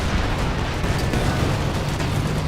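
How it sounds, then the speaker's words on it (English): Dense, loud rumbling barrage of shell impacts and cannon fire as a Comet tank takes hits in Company of Heroes 2, a continuous roaring wall of low booms with no clear pauses. "Good hits there on the Comet tank"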